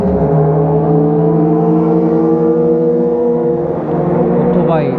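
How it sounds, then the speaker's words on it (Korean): A motorcycle roaring loudly past on a street in Otaru, a close, heavy engine drone that stays strong throughout before a brief whine at the end. "오토바이네."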